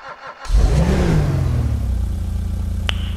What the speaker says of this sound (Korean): 제가 바로 엔진 소리도 한번 들어볼게요